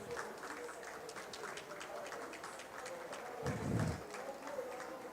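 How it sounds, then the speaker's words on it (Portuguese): Applause for invited guests at an event on mining in Indigenous territories, a steady wash of clapping from a crowd filling the whole stretch, with a fuller, louder swell near the end. "uma salva de palmas para as nossas pessoas convidadas"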